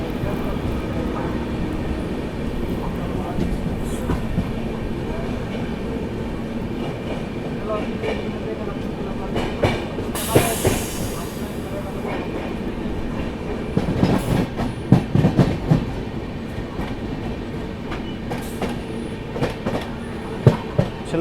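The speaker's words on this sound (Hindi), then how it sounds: "हमारी ट्रेन ने जो है सेवाग्राम जंक्शन को स्किप कर दिया" An Indian Duronto Express passenger train rolls through Sevagram Junction, heard from on board as a steady rumble with rhythmic wheel clatter and occasional sharp clanks over points. Voices speak faintly underneath.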